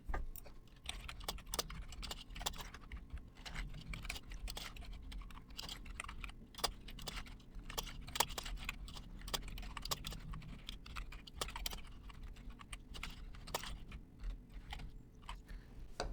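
Someone types a prompt on a computer keyboard, a long run of rapid, irregular key clicks, close and fairly quiet, continuing steadily for sixteen seconds with brief pauses and no talking.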